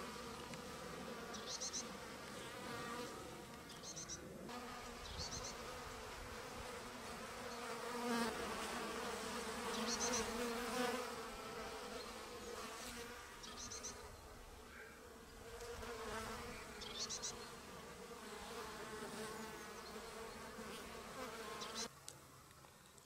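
Honeybees buzz steadily around water feeders set out at an apiary in February, a dense continuous hum of many insects close by with no talk.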